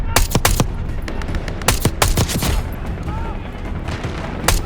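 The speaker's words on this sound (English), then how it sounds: "We're taking heavy fire at the helo." Heavy gunfire in Call of Duty Black Ops 6: dense bursts of sharp shots and booms crack throughout, some in rapid fusillades, loud and close over a steady rumbling battle background.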